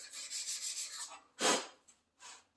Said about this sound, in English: I want to first clean off most of the rust on it